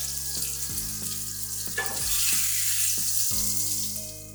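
Salmon fillet frying in a pan of hot oil, a steady close sizzle running throughout, broken by a few soft knocks and scrapes as the fish is shifted in the pan, with no talk.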